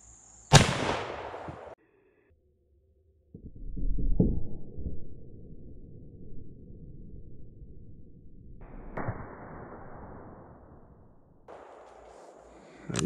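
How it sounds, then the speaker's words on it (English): An 1886 Winchester rifle in 50-110 loaded with black powder and a 405 grain bullet fires one sharp, loud report, with a second muffled boom and a few lighter bangs following amid outdoor rumble. "Let's shoot one of these 405 grain bullets and see how she does."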